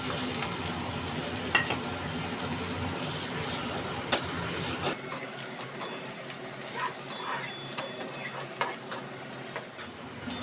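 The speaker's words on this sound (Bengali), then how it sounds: "সর্ষের তেল গরম হলে ওর মধ্যে শুকনো লঙ্কা একটা ফোড়ন দিয়েছি, তার মধ্যে পেঁয়াজ কুচি দিয়ে একটু হালকা করে ভেজে নেব।" Chopped onion fries lightly in hot mustard oil tempered with a dried red chilli, a continuous sizzle broken by repeated sharp spatula taps and stirring clicks, close and fairly loud throughout.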